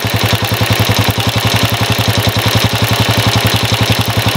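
A Honda CG 125 motorcycle engine idles steadily up close, a loud, even mechanical chugging with a rapid regular pulse and no voices.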